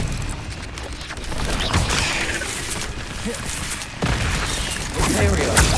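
Spells are cast during a fight in the video game Hogwarts Legacy: a loud, continuous barrage of crackling magical blasts, thuds and booms, with sharp bursts surging over a dense, noisy backdrop.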